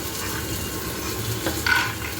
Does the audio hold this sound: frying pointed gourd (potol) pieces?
yes